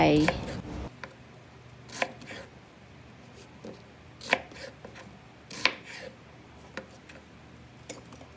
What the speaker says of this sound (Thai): เริ่มขั้นตอนแรกโดยการหั่นหอมใหญ